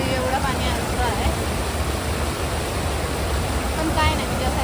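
Fast-flowing rainwater stream during the monsoon, a steady broadband rush heard close and continuous, with people talking faintly over it.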